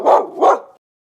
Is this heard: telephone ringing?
no